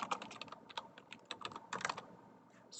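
Fingers typing a student name into a form on a computer keyboard, quick irregular bursts of soft clicking keystrokes, close and quiet, with short pauses between words.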